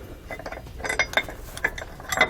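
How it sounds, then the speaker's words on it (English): Factory bolts being removed from a spring bracket on a 2018 Newmar Canyon Star motorhome, with a series of close, light metallic clinks and rattles from tool and hardware in an irregular rhythm. "We're going to take these bolts out."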